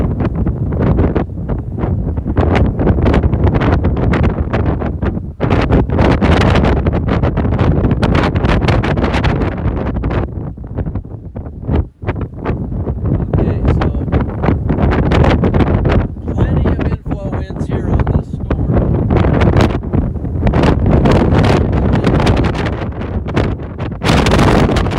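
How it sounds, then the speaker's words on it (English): Strong inflow wind buffets the microphone during a tornado threat in Kansas, a loud, continuous roaring rush that surges and dips for the whole stretch, with voices partly audible beneath it. "Boy, the wind's here. Look at this. Look at the winds here. Inflow wind."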